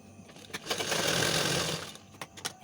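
A sewing machine runs in a steady whir for about a second, stitching the folded hem of a Nepali women's dress, with a few short bursts of stitching before and after.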